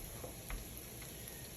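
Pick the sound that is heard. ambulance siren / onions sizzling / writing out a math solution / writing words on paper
onions sizzling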